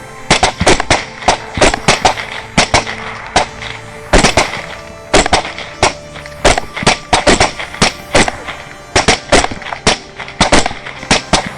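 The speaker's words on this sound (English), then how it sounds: "the night erupted with a storm of gunfire" A rapid barrage of sharp rifle shots cracks out in irregular bursts during a night wild boar hunt, loud and close, with brief pauses between volleys.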